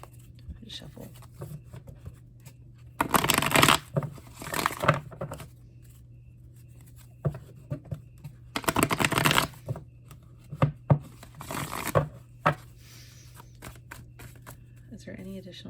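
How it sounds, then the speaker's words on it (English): Tarot cards are shuffled in two loud bursts of riffling and sliding, each lasting about a second, with softer taps and handling between them and quiet talk in the background. "Shuffle."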